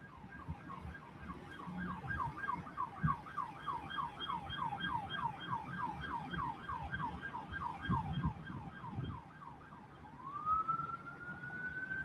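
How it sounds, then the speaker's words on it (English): A wailing Los Angeles police siren sweeps up and down steadily for several seconds, then rises into a long climbing tone, with distant traffic rumbling underneath. "I hear another siren coming."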